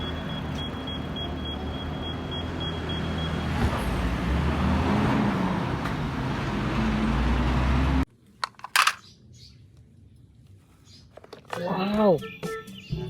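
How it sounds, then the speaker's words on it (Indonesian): A garbage truck passing on a road, heard as a loud, steady engine and traffic rumble with a few short high beeps early on. It cuts off abruptly, followed by a voice talking over quieter background noise. "ini ada mobil sampah teman-teman"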